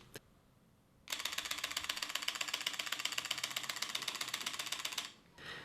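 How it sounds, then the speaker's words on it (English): After one lone click, a Panasonic Lumix DMC-GH5 camera fires a 9-frames-per-second burst with autofocus active for about four seconds, a fast steady rattle of shutter clicks heard up close. "this is burst at 9 frames per second with autofocus active"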